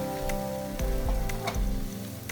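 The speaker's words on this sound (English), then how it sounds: "add in the prawn heads and stir fry until they turn orange." Prawn heads and garlic stir-fry in hot oil for prawn noodle soup broth, a close, dense sizzle broken by quick scraping strokes of a spatula against the pan.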